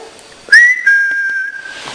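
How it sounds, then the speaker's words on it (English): A man's single clear whistle slides upward, then holds a steady high note for about a second against faint background hiss, at Coalhouse Fort at night. "could you perhaps whistle?"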